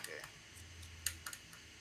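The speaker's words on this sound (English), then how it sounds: "All I hear is a bunch of clicking." Computer keyboard keys click in a few sharp, faint taps, scattered irregularly over a quiet background with a low hum.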